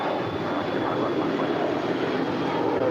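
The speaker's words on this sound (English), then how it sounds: "That right there is Singapore Airlines Flight 11. We'll be heading back to Tokyo Narita on that 777-300ER." A Singapore Airlines Boeing 777-300ER takes off at LAX, its jet engines making a loud, steady, broadband roar that holds constant throughout, with no talk over it.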